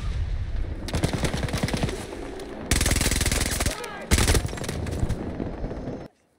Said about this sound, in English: As I am being shot in the back